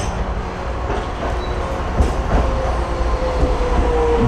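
A city train in Hiroshima runs toward the railway station, heard from inside as a steady rumbling roar with faint clatter and a thin wheel squeal, loud and continuous.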